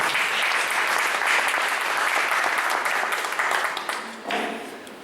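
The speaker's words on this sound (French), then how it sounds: "je vous demande de l'applaudir" An audience at a literary event on Korean crime fiction applauds an interpreter, loud, dense clapping from a sizeable crowd that holds steady, then thins out toward the end.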